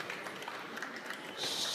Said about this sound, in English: Yeah, round of applause, yeah.